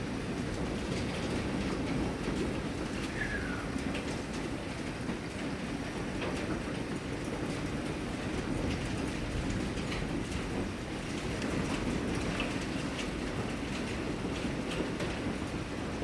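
Heavy hail and rain fall during an Oklahoma thunderstorm, pelting a parked car beside a police car, a dense, steady roar of impacts that holds without a break for the whole stretch, with no voices.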